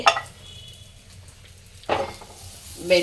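Butter sizzles in a hot pan with a soft, continuous hiss, punctuated at the start, middle and end by louder bursts of scraping and clattering from a utensil.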